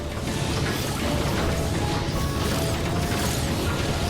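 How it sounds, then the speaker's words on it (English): A matter printer is built in the space factory game Outworld Station, giving a dense, continuous mechanical whirring and clattering with ratchet-like ticks, loud and steady throughout with no voices. "Okay, let's build a matter printer."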